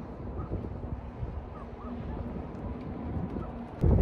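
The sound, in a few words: strong desert wind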